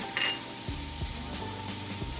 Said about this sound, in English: So it's been heating, you can hear that sizzle, so you know it's ready.